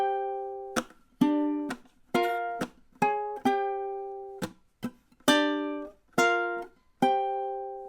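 Solo ukulele plays a passage of a riff, a steady run of about a dozen crisp strummed chords with short gaps between them, close and clear with no talking.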